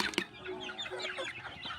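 Hungry chickens and a rooster clucking in a short burst of overlapping, fairly faint calls, with one sharper squawk near the start and softer clucks after it.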